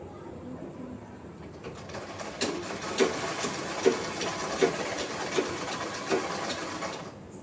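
Scissors cutting through saree cloth to shape a long frock, a run of soft, regularly spaced snips close by that come through faintly over low room noise.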